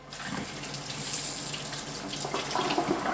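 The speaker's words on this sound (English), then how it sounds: "And the potatoes. I'll wash these." Potatoes being washed under a running kitchen tap, with a steady, close stream of water splashing for the whole stretch and no talking.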